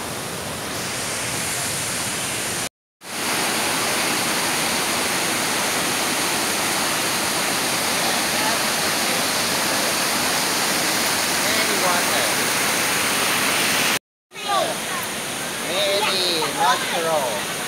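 Sarika Waterfall in Thailand roars as a dense, continuous rush of falling water, loud and close, broken twice by brief cuts, with faint voices near the end.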